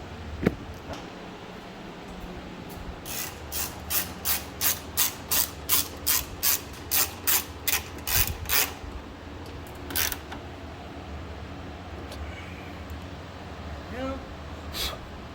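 A ratchet wrench loosens a headlight bolt on a 2014 Mazda 3: a quick, close run of about a dozen sharp, even clicks, then a few isolated clicks, with low workshop noise around them.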